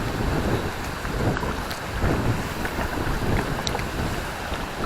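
Wind blows across open water during bass fishing, buffeting the microphone with a steady rumbling roar that gusts up and down, with no voices over it.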